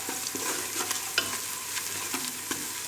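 Masala spices stir-fried in a pan for a creamy masoor lentil dish, giving a steady close sizzle with scraping stir strokes and soft clinks throughout, no voices.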